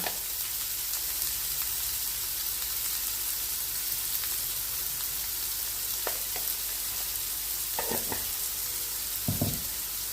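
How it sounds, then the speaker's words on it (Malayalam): Sliced onions sautéing with a pinch of salt in a pan, a steady close sizzle and frying hiss throughout, with a few brief stirring scrapes near the end. "ഈ സവാള ഒന്ന് മൂത്ത് കിട്ടാൻ വേണ്ടി പെട്ടെന്ന് ഒത്തിരി ഒന്നും അങ്ങ് എന്തിടാകണ്ട നമുക്ക് ശകലം ഉപ്പ് ചേർത്ത് കൊടുക്കാം"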